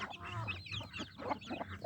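Free-range farm hens and their chicks make soft, irregular clucks and higher chirps, close by and fairly quiet, in short overlapping bursts.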